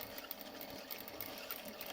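A sewing machine whirs steadily while back stitching a patch pocket, a fast even needle rattle, close and moderately loud, running without pause.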